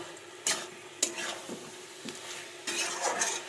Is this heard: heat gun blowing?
no